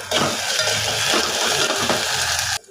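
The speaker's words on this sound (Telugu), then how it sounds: "అల్లం వెల్లుల్లి పేస్ట్ పచ్చివాసన పోయేదాకా వేసుకోవాలి." Ginger-garlic paste fries hard in a pan for a curry, a dense close sizzle with soft stirring scrapes that cuts off abruptly near the end.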